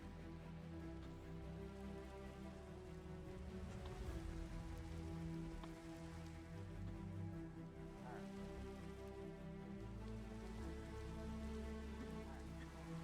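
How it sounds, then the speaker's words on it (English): Rain falls steadily in the Minecraft video game, a soft, continuous patter on surfaces that stays quiet and even throughout with no voices. "It's raining."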